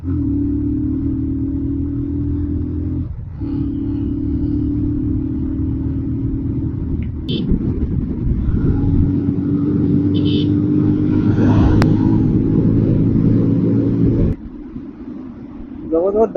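A Pulsar 220F motorcycle rides along an open road, its steady engine rumble and wind noise continuous and fairly loud, rising slightly midway before dropping off near the end; a voice talks over it.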